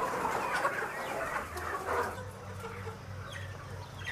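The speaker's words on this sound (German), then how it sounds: "Dann gehen die Hühnchen Eier legen." Chickens clucking inside a stall on an organic farm, a busy mix of close clucks and calls, with a low steady hum underneath and no talk.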